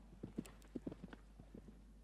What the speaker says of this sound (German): Und nochmal wieder durchparieren zum Trab und das machen wir nochmal.